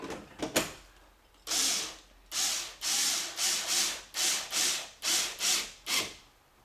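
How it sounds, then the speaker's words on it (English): Plastic fasteners on a second-generation Saturn S-Series door panel being tightened by hand during a power window slider repair, a run of nine or ten rhythmic rasping turns, close and fairly loud, after a few short clicks. "Just going to hand tighten the last bit."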